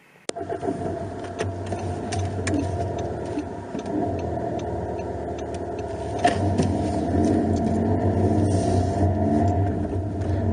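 A car pulls away and keeps driving, its engine a steady low rumble heard from inside the cabin, with faint light ticking over the hum and no talk.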